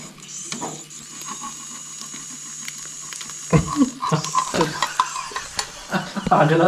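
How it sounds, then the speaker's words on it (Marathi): An omelette fries in a pan during outdoor cooking on a quiet Konkan beach. A steady close sizzle runs throughout, then louder scraping and clattering of the pan and spatula come as it is flipped. "ऑमलेट सक्सेसफुली पलटी झालेला आहे"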